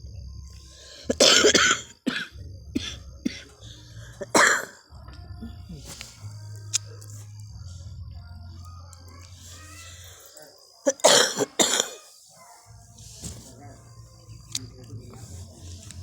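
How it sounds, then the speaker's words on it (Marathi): Several harsh coughs in bursts, close by, separated by quieter stretches with low humming and small handling noises. "इथं मला खोकला आलेला आहे आता थोडासा"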